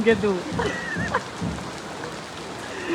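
Rain falls steadily in the background at Tamhini Ghat while a voice speaks briefly at the start and near the middle.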